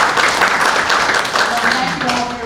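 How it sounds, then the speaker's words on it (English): Applause from the audience at a Wood County Republican executive committee meeting, a steady wash of hand clapping with some talk mixed in underneath. "So I'd just like to give them a hand clap if you would."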